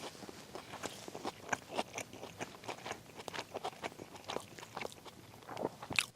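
Grilled carne asada being chewed close to the mic at a snowy campsite, soft wet bites and crunchy chewing in an uneven rhythm with faint scrapes between, no talking.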